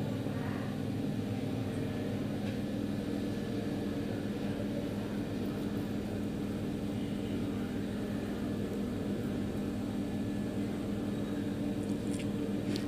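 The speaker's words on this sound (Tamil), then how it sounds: "வெங்காயத்தை நல்லா வதக்கணும்." Onions sauté in a pan for spicy Egg 65, a steady, even sizzling hiss that runs unbroken throughout at low-to-moderate level.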